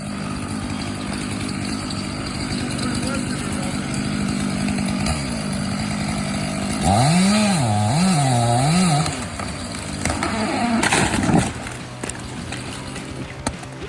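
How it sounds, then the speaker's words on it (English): A chainsaw runs loudly and continuously, its engine pitch dipping and surging as it bites through a thick hardwood trunk in a forest, then easing off. "cutting through the hardwood as if devouring every fiber of the tree trunk."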